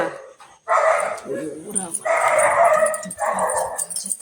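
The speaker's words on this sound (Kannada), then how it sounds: "ನಾಯಿ ಕೂಗ್ತಾ ಇರುತ್ತೆ" A dog in the house across the street barks and whimpers in short bursts, with a person talking over it.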